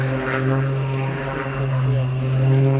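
An aerobatic plane dives at high speed at a Yeovilton airshow, its propeller engine giving a loud, steady, harmonic drone that swells slightly toward the end. A commentator's voice sits faintly in the mix.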